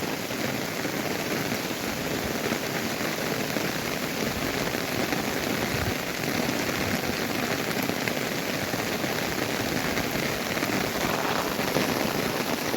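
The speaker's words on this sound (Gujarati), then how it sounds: "કેટલો બધો વરસાદ છે અવાજ તમે સાંભળી શકો છો કેટલો જોર જોરથી વરસાદ ચાલુ થઈ ગયો" Heavy downpour drums on an open umbrella during a Navratri night, a dense, loud and unbroken hiss of rain with no voices.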